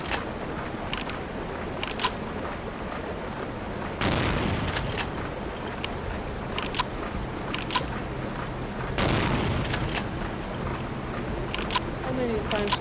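Gunfire in the video game Vampire: The Masquerade - Bloodlines, with two heavy booming shots a few seconds apart and smaller sharp cracks between, heard under a player talking.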